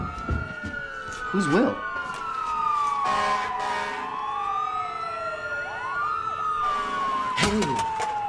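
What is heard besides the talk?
many sirens, probably police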